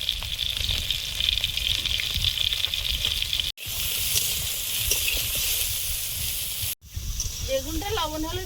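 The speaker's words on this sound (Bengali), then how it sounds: "বেগুনটা লবণ হলুদ দিয়ে ভেজে নিচ্ছি।" Small eggplants fry in a pan with salt and turmeric, giving a continuous close sizzling hiss that runs steadily throughout.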